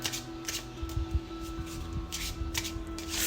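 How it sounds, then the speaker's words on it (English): Cards being shuffled in several quick riffling bursts, close and moderately loud, over a steady low hum. "I'm shuffling the deck."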